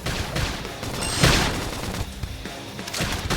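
Gunfire from Xenoblade Chronicles X rattles in a dense, continuous barrage, with a louder burst mid-way among crashing battle effects, forming a steady roar of rapid shots.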